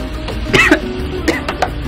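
A couple of short, sharp coughs close by, one around the middle and a smaller one after, over a quiet room hum.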